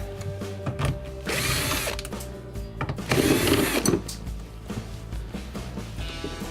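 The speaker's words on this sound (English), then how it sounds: "there's 2 1/4-inch screws to remove here that hold the control board and bracket onto the" A power driver whirs in two loud bursts, backing out a pair of 1/4-inch screws from the control board bracket of a Maytag refrigerator, with clicks and handling noises in between.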